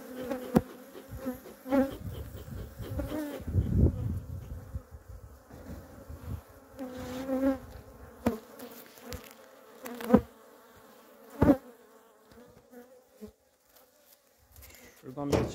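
Bees swarm and buzz close around a beehive during a hive inspection in hot weather. The buzzing rises and falls near the microphone, broken by sharp knocks and handling sounds.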